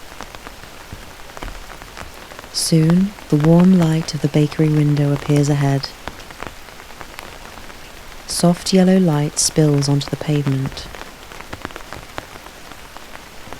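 Steady rain falls around a street in a constant soft patter, running the whole time beneath two stretches of calm narration.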